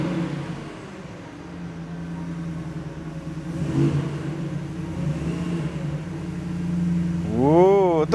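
A 5000 cc supercharged American double-cab pickup truck engine idles with a deep rumble, then revs up sharply near the end, pitch climbing and falling in quick bursts.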